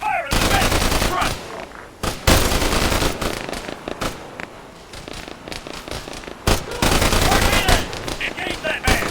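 Heavy automatic gunfire from a machine gun in an Arma 3 infantry firefight: loud, dense bursts and rapid volleys that run almost without a break, with short lulls before the shooting resumes.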